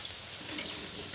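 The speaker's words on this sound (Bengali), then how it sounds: "এখানে পেঁয়াজগুলোকে ভালোভাবে ভাজতে দেব" Chopped onions frying in a pan for a village-style chicken curry give a steady, soft sizzle with faint crackles throughout, and no voices are heard.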